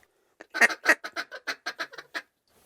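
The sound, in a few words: hen duck quacking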